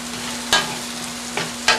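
Chopped vegetables fry in a pan still coated with leftover sausage for an Italian meatball tortellini soup, giving a steady close sizzle broken by a few sharp scraping stirs.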